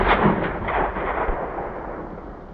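Gunshots from a hunt in Africa, a few loud dull booms in quick succession up close, followed by a fading rumbling tail.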